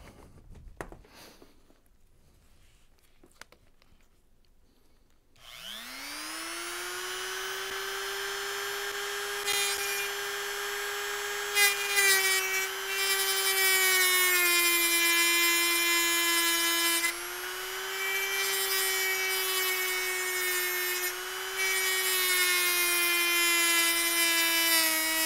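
A high-pitched rotary power tool spins up after a few seconds of quiet handling and whines steadily as it grinds corrosion off a MacBook Air 13-inch A1466 logic board, its pitch dipping slightly under load.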